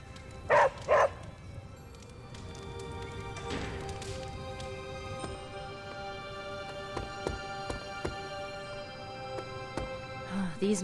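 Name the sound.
dog barking in video game Marvel's Midnight Suns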